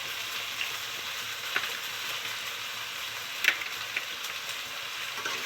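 Ash gourd curry with turmeric fries in a pan, a steady close hiss with occasional light clicks and scrapes of a spoon stirring, no voices.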